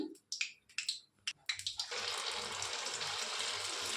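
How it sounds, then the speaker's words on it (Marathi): A second batch of cauliflower for gobi manchurian dropped into hot oil, a few sharp splashes and clinks followed by a sudden steady, broad frying hiss that holds at a constant level, close by. "आता दुसरी बॅच भी भाजून घेऊया आपण"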